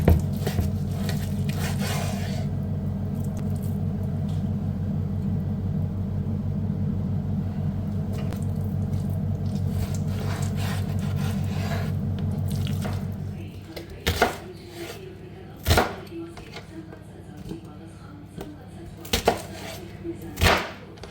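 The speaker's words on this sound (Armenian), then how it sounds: "Սա կտրատում եմ, փոքրացնեմ այնպես, որ կարողանամ անցկացնել մսահացով։" A knife cuts turkey meat into small pieces for mincing. A steady running-water rumble comes first, then a handful of sharp, irregular chops ring out near and loud.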